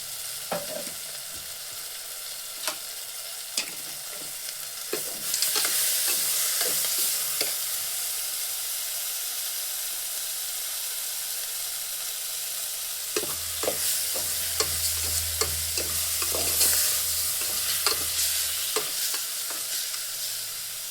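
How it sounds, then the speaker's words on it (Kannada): Egg biryani masala with salt is stirred in a pan: repeated scraping strokes and clicks of the spoon against the pan over a steady frying sizzle that swells louder midway through, with no talk. "ಈಗ ಒಂದು ಸ್ವಲ್ಪ ಉಪ್ಪು ಹಾಕ್ಕೊಂಡು ಚೆನ್ನಾಗಿ ತಿರುಗಿಸ್ಕೊಬಿಡೋಣ"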